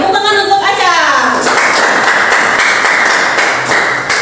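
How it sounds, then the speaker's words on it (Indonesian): A classroom of children breaks into group clapping for a student after a short burst of speech, with dense, close hand claps filling the rest of the moment. "Ya, tepuk tangan untuk Aca."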